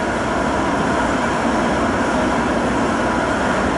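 Tokaido Shinkansen train at a station platform in Japan, a steady loud broadband rumble and rush of the train running through without letup, no voices over it.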